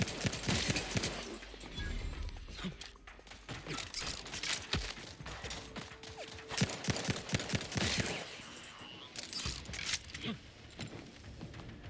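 Sustained gunfire in the video game Outer Worlds 2, dense rapid bursts of shots and impacts crackling continuously over a rumbling game backdrop, loud and close throughout with brief lulls.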